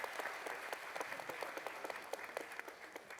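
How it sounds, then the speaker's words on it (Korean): A crowd claps in quick scattered bursts at a political talk concert in Gyeonggi-do, a moderate, even applause that runs for a few seconds without speech. "박수, 박수"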